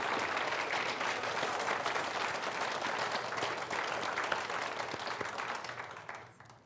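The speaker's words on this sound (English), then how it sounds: "May I ask for one big round of applause for all 5?" A crowd at a university speech showcase applauds with dense, sustained clapping that holds steady, then thins and fades out near the end.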